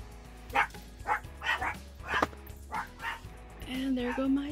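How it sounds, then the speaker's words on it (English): Several dogs barking in short repeated bursts at a house on New Year's Eve, with yips and whimpers mixed in, fairly close and loud, while a person talks over them. "the dogs are barking because the neighbors are already beginning to party"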